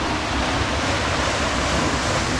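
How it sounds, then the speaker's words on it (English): Spring water pouring out into the restored spring run at Juniper Springs Campground, a steady dense rushing wash with no breaks, fairly close and even throughout, without voices. "It's the water coming out of the spring."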